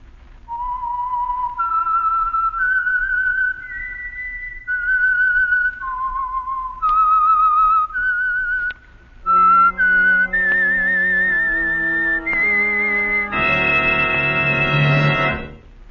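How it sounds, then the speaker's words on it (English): A whistled signature tune for The Whistler, the Signal Oil radio program: a clear melodic line of sustained notes, whistled alone at first, then carried on over a fuller instrumental backing that swells toward the end. "the signal to listen for is this whistle that identifies the Signal Oil program"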